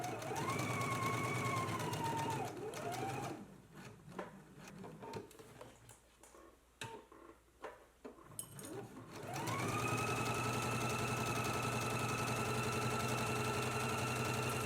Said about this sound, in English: let's go ahead and stitch in a 5/8 inch seam allowance along the side